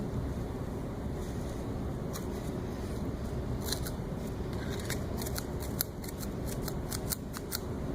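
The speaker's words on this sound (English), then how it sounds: "Oh, shitty scissors, Jesus Christ" Repeated sharp snips of poor-quality scissors cutting, irregular and close, over a constant low rumbling noise.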